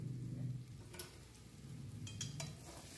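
Fried potatoes and spices sizzling and being stirred together in a pan for a Bengali curry, a faint steady frying hiss with a few light scrapes of a utensil against the pan.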